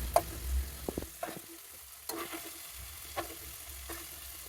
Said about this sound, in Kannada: ಆ ಮೊಟ್ಟೆನ ಇದ್ರ ಜೊತೆ ಫ್ರೈ ಮಾಡ್ಕೊಳ್ಳಿ.